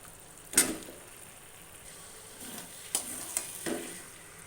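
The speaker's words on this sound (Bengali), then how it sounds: "মাংসটা দিয়ে একটু নেড়ে নিলাম" Chicken pieces stirred into hot oil seasoned with cumin powder and salt, giving a low, steady sizzle with a few sharp scraping stirs near the start and later; quiet and close, with no talking.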